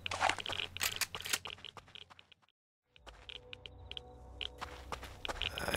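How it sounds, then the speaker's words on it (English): Footsteps in the survival video game Rust: a run of quiet crunching steps, a brief silent gap, then more soft steps and crinkly scuffs at a low level with no talk. "I hear footsteps."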